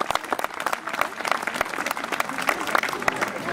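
Steady crowd applause for head wrestlers at a Turkish cultural festival, dense clapping throughout with voices mixed in underneath.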